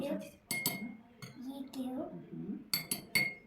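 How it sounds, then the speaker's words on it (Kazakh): A spoon clinks against a glass as spoonfuls of sugar go in, giving several sharp metallic taps in short bursts, with a voice and other talk between them. "3 қасық қант саламыз."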